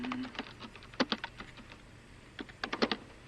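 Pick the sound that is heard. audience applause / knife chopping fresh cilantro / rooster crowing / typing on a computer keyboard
typing on a computer keyboard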